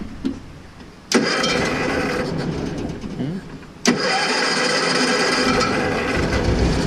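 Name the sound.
Cushman Truckster utility vehicle engine starting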